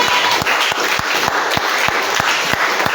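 A church congregation at a Sunday worship service applauds and acclaims God, producing loud, continuous, dense clapping with a few sharper, regular beats, close and filling the space without spoken words.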